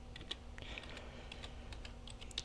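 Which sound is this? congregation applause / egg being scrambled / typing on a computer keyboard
typing on a computer keyboard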